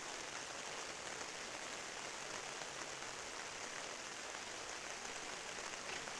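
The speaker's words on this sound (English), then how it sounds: "So we got the rain coming down." Steady rain falls on an outdoor sports field during a tournament game, a continuous broad hiss with no breaks, fairly soft and even throughout, with no voices.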